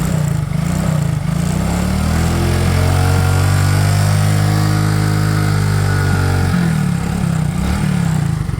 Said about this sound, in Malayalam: എൻ്റെ എക്സോസ്റ്റ് നല്ല സൗണ്ട് നോക്ക് ഇനി റേസ് ചെയ്യുമ്പോൾ ഒന്ന് ഇവിടുത്തെ സൗണ്ട്